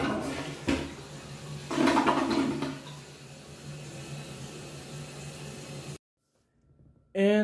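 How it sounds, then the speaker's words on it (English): House toilet flushing nearby in a bathroom, a rushing surge of water with a louder gulp partway through, fading into a steady hiss before cutting off, followed by a brief voice. "let me show you exactly how a house toilet would sound."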